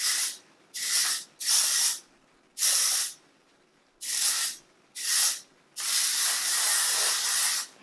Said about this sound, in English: I just take my waist memory mist again and I kind of just spray it all over.